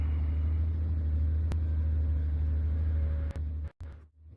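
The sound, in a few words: GT3 race car engine in sim racing video game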